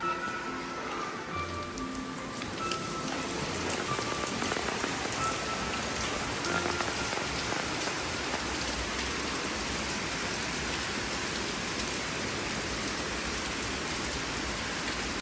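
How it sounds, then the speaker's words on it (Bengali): Steady rain pours down continuously, a dense hiss of drops on surfaces with no voices, even in loudness from start to finish. "আর কিছুক্ষণ পরেই শুরু হয় বৃষ্টি।"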